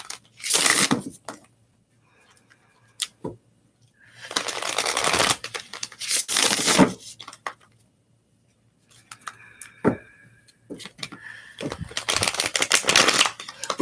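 Several bursts of crisp tarot card shuffling with riffling, papery rustle, separated by short pauses; close and fairly loud, no voices.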